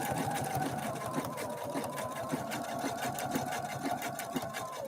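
A Husqvarna Viking Opal 650 sewing machine runs continuously through a decorative mountain stitch pattern, a steady close mechanical whir with rapid regular needle ticks and no talking.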